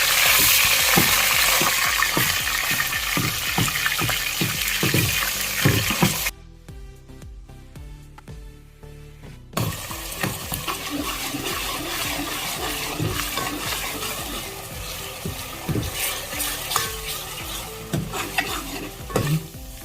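Roasted coconut paste and onion paste hit a pan of browned ginger-garlic paste for a village-style spicy chicken dish, giving a loud, steady sizzle with repeated stirring scrapes. A brief quieter gap falls midway before the frying and stirring resume.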